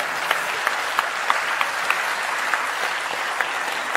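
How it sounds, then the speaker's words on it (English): An audience claps steadily throughout at a talk in Turkey, a dense even patter of many hands with a few sharper individual claps standing out, heard alone and fairly close. "Hey, they're also clapping."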